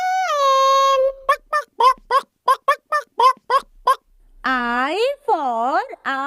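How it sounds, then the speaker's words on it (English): A hen clucks in a children's phonics alphabet song, a run of short, evenly spaced clucks standing out clearly between voiced sung or spoken parts. "H for hen. H for hen."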